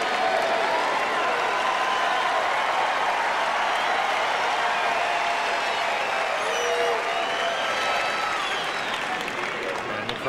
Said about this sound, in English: the crowd at Arthur Ashe Stadium letting Sampras know they're with him